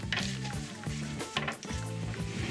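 Empanadas frying in a pan in a boat's galley, a steady close sizzle with bursts of crackling and some clinking of cookware over music.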